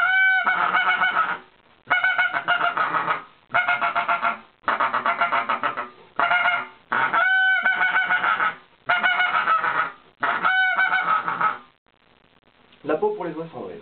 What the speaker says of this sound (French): L'appôt à oie cendrée, le DJ Greylag Goose Call, qui est en bois